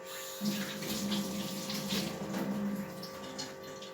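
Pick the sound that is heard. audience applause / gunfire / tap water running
tap water running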